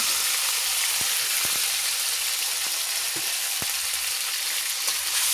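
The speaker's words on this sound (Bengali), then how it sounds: "আমি এখন মশলাটা ভালোভাবে কষিয়ে নেব 2 মিনিট।" Ground cumin, garlic and dried chili paste frying in a pan: a steady, loud hiss of sizzling oil with scattered sharp crackles and pops, no voices.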